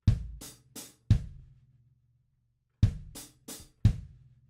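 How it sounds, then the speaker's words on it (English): Two short bursts of an open-handed drum groove on kick and hi-hat, low thuds alternating with crisp ticks, separated by a pause, close and fairly quiet. "Right, left up on the hi-hat, kick drum, played with your right foot."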